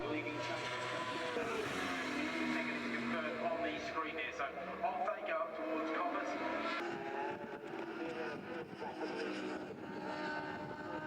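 A pair of rookie 1000cc race motorcycles passing at Cadwell Park circuit, their engines whining and rising over a continuous crowd and commentary wash, with a commentator talking throughout.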